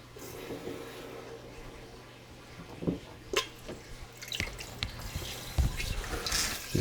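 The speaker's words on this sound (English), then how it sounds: "4 or 5 gallons through that hose into the sink." Water runs steadily from a hose into a sink with a low splashing hiss, broken by a few louder sloshes and clunks near the end.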